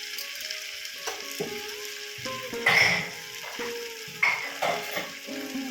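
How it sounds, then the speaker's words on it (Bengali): Chicken curry being sautéed in a pan, a steady sizzle broken by repeated scraping and clanking of a spatula against the pan in irregular strokes, close and fairly loud. "বেশ কিছুক্ষণ ধরে এবার এটাকে আমি কষাবো।"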